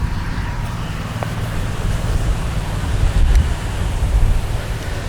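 Steady wind rushing across the microphone outdoors, a continuous loud roar with surf-like swells that build slightly toward the end, no voices over it.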